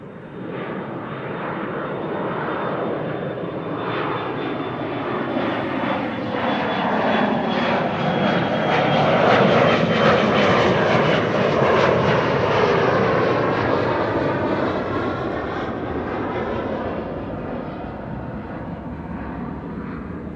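A KLM Embraer jet roars as it departs runway 24, the Kaagbaan, at Amsterdam Schiphol Airport, a sustained loud engine rumble that swells to a peak midway and slowly eases, heard at a distance with no talk.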